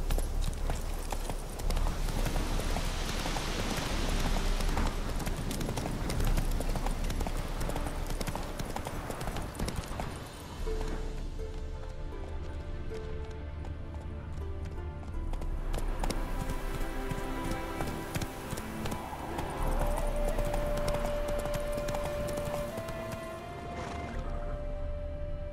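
A horse gallops steadily in The Witcher 3: Wild Hunt video game, its rapid hoofbeats continuous and close under game music, with a voice urging it on at moments.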